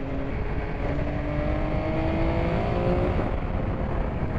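A 2022 MV Agusta F3 Rosso sports motorcycle engine revs on a test ride, its steady, loud drone rising slightly in pitch under wind rush, close to the rider with no talking.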